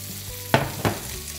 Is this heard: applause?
no